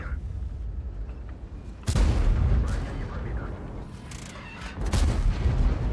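Object 265T tank cannon in a tank video game firing a double shot: two heavy, booming blasts about three seconds apart over a steady low battle rumble.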